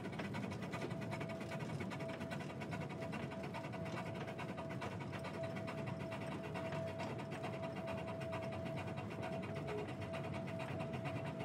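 The Silver Dollar City theme park train runs through the woods with a continuous mechanical rattle and clatter, steady and moderately loud throughout, and no talking.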